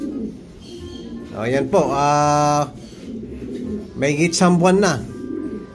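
Racing pigeons in a loft give low, throaty cooing calls, a couple of rolling coos close by, mixed with someone speaking over them.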